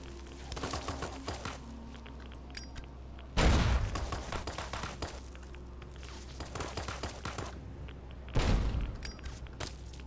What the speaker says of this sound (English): Now I got a shotgun.